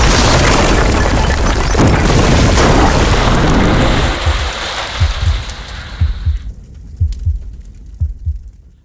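The Queen Vic pub explodes in EastEnders: a loud, roaring blast fills the first few seconds, then gives way to a series of deep, spaced booming thuds that recur at a steady pace.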